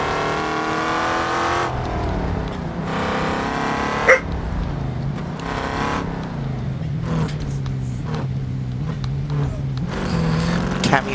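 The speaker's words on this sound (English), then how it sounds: "revving in the background, please excuse that" A car engine revs repeatedly in the background, rising and falling in steady bursts, with a dog barking now and then.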